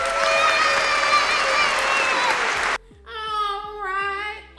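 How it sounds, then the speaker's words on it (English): A home crowd claps and cheers loudly for a few seconds, with children's voices in the mix, then the applause cuts off abruptly into music. "Everybody give Justin a round of applause."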